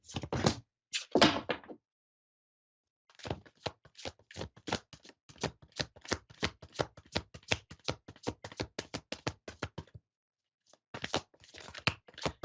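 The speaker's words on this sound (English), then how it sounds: "I'm just shuffling the deck, so it's taking a sec." Close, crisp riffling and fluttering of a card deck being shuffled, in rapid bursts separated by short pauses.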